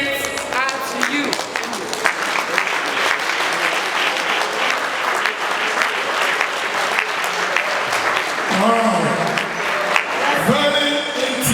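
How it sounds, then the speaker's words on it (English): Sustained, loud applause from an audience at an Inner Wheel district chairman installation ceremony, dense clapping filling the whole stretch with a brief dip near the end. "Please a round of applause."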